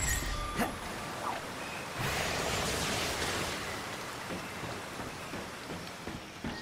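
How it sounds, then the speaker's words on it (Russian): A waterfall in the Ratchet & Clank video game, a steady rushing wash of water with a broad hiss and a few faint game blips, moderately quiet and without voices. "Вот водопад, собственно говоря."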